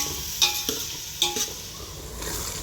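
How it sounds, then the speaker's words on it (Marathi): Garlic sautés in a pan until browned, giving a steady, close sizzle broken by a few sharp clanks of a spoon stirring against the metal. "असं चांगला परतून घ्यायचं आहे तांबूस होईपर्यंत।"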